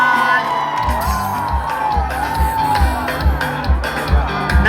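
Crowd at a live music show cheering, whooping and shouting over a pounding beat, loud and sustained, with a voice calling out over the noise.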